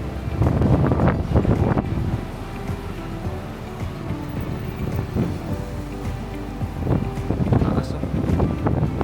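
Strong wind buffets the microphone outdoors near a city hall in Taiwan, with low rumbling gusts that rise and fall, and people talk over it.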